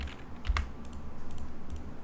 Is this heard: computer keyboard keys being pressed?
yes